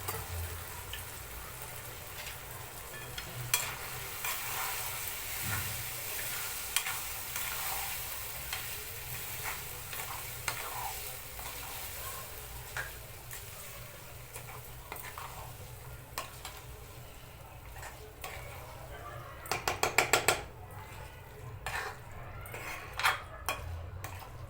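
A spoon stirs sabudana khichdi after lemon juice is added in a pan, giving a soft continuous scraping and sizzle with occasional light clinks and a brief cluster of rapid taps near the end.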